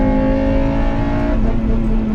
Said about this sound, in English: Oh, when that VTEC kicks in, that intake noise is crazy.